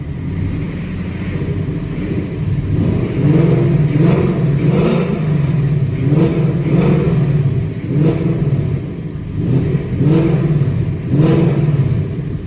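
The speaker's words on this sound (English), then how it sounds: "Just gonna do a couple of quick revs" A 2019 Ford Mustang GT engine revs repeatedly in short bursts through an exhaust with broken baffles, rising and falling over a rough, rattly idle, loud and close.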